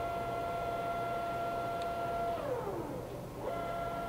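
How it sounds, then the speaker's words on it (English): A Tos SN40 engine lathe with a 16-inch swing and 40-inch centers runs at low RPM. It gives a faint, steady mechanical hum with a tonal whine that drops in pitch partway through. "We're gonna run her for you. Machine has from 22 RPM up to 2000. We're running at a lower RPM right now."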